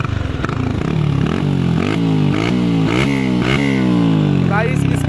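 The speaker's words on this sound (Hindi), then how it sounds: "एक बार R15 का एग्जॉस्ट का साउंड सुना देते हम लोग।" A Yamaha R15 M sport motorcycle's exhaust revs repeatedly, its dB killer removed, each blip rising sharply and falling back, loud and close with a raspy, open tone.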